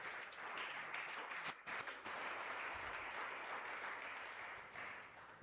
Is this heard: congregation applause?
yes